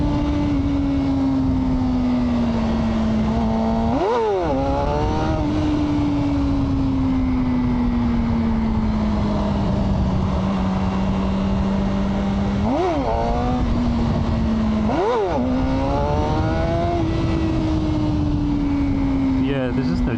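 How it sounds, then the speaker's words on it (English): A Suzuki GSXR motorcycle engine drones at speed, its pitch climbing steadily through long revs, then briefly dropping and rising again with quick gear shifts, loud and close with wind rush and a voice talking over it. "I do love how it revs out a long way."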